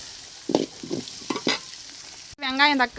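Onions and dried red chillies sautéing in a pan, with a few soft stirring scrapes and faint sizzle close by, then a brief bright tonal whine near the end.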